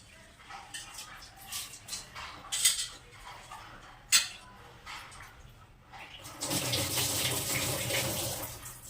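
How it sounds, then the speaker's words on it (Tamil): Soaked rice and moong dal being tipped into a pressure cooker in a home kitchen: scattered wet clinks and scrapes, a couple of sharp metallic knocks, then a steady louder pouring rush at the end, fairly close. "ஊற வச்ச அரிசியையும் பருப்பையும் நம்ம இப்போ குக்கருக்கு மாற்ற போகிறோம்"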